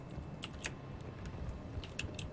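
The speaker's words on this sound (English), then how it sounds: "my clickety clack keyboard is clickety clacking" Someone types rapidly on a clicky computer keyboard while playing a Mass Effect 3 multiplayer match, producing quick, uneven bursts of sharp key clicks that are close up and moderately loud over a low background hum.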